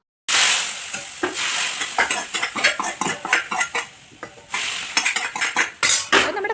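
Onions and chili powder frying in a pan, close and loud, with a sizzle under repeated scraping and clinking as a spoon stirs against the metal, the strokes coming in an uneven rhythm.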